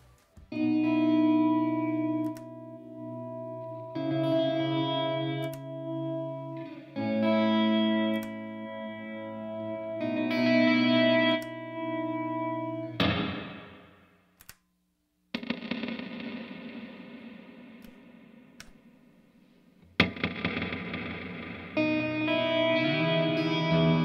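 Guitar chords and phrases ring out through a Chase Bliss Audio CXM 1978 reverb, shifting from tighter room ambience to long washy hall tails, with short pauses between passages.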